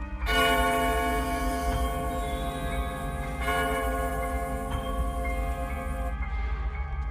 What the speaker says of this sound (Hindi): और उसी पल स्टेशन की घंटी अपने आप बज उठी।